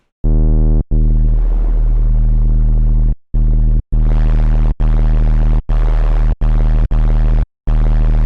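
An FM synth tone built from a low-passed square wave with white noise modulating its phase plays as a loud, buzzy, bass-heavy drone, chopped into several abrupt stabs of varying length with short silences between.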